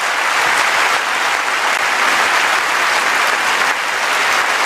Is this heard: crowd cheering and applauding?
yes